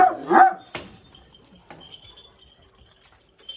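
Dogs on a farm give a sharp bark and a few shorter yips, followed by quieter jangling and shuffling; close, brief and without speech.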